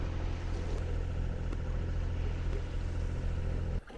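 Boat engine drones steadily with a low, constant rumble while sailing near the Arctic island of Svalbard, continuous and close, cutting off abruptly near the end.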